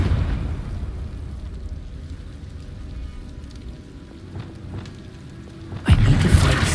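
Confringo fire spell cast in Hogwarts Legacy, a sudden loud burst near the end after a stretch of low rumbling ambience.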